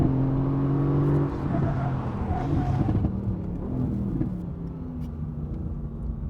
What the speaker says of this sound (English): And this motor, 4 litre bi-turbo V8